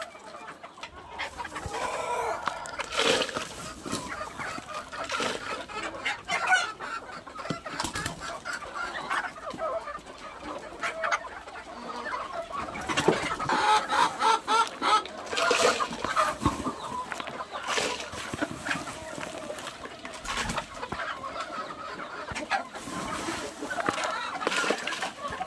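Native chickens cluck and murmur continuously while pecking at cut grass in feeding pots, a busy flock close by with occasional louder calls and a distant crow, a voice talking now and then underneath.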